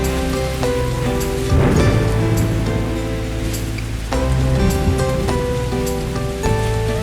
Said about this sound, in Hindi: मुझे बहुत तेज़ बारिश की आवाज़ आई